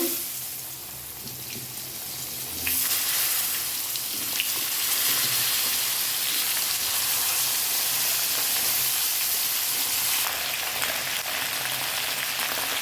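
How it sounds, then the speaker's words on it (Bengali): Pointed gourd (potol) pieces frying in hot oil with salt and turmeric, a steady close hiss and sizzle that swells louder after a few seconds and continues alone. "প্রথমে আমি পটলগুলোকে ভেজে নেব ভালো করে।"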